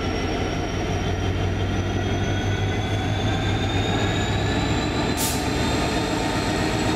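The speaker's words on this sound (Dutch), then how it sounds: "Schitterend geluid maken deze locomotieven." Train locomotives running on a European rail line near Forbach and Völklingen, a loud, steady rolling roar with a low engine drone and rising wheel whine, plus a brief high squeal near the end, continuous and close.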